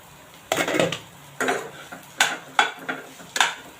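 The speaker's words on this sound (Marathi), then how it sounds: "इथे मी झाकण काढत आहे" A metal lid comes off a cooking pan with a series of sharp clinks and scrapes, several distinct knocks close by.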